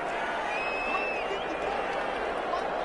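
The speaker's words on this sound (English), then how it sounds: "Some applause for the defense there." Stadium crowd at an NFL football game, Minnesota Vikings, applauding the defense after an incompletion on third down; a steady broad wash of clapping and crowd noise fills the space, mixed with a faint whistle-like tone and background voices.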